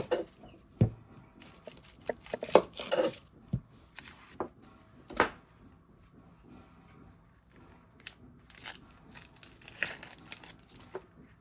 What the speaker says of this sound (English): And we're going to get these sliced thinly.